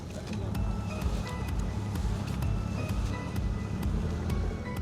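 A motor-driven ice sled with a rear-mounted motor and no handlebars runs close by on a frozen fishing spot, giving a steady low throbbing engine hum with a scattering of sharp ticks and clicks over it.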